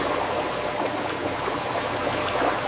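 A water flume on a strawberry washing line, where the fruit lands in the water and is carried along by the current: a steady rushing, gurgling flow of water with faint splashes, continuous and close, with no speech.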